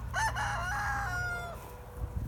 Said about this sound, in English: I'm just out being with the birds for a little while.